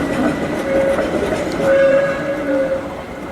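A train rumbles at Basel railway station in Switzerland, a loud steady roar with a sustained tonal whine rising and fading in a reverberant station.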